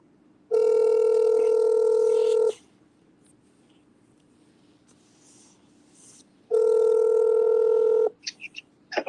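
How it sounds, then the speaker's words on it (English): A telephone calling back: two long steady ringback tones a few seconds apart with quiet between, followed by brief faint clicks at the end. "Hey, Phil, I'm going to call you and reconnect."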